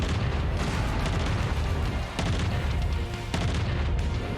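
Dense, continuous explosions rumble and boom in the MechWarrior 5 video game, layered bursts with sharper hits near the middle and end, loud throughout.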